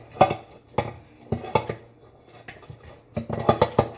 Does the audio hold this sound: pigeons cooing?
no